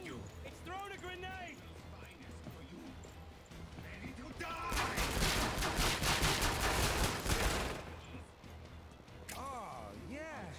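Rapid machine gun fire in Killing Floor 2 on Hell on Earth difficulty bursts loud and dense for a few seconds in the middle, with scattered gunshots and game sounds around it and a voice talking before and after.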